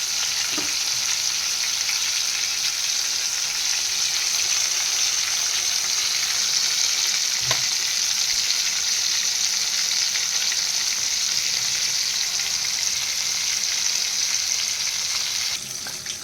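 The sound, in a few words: semolina-coated aila fish frying in oil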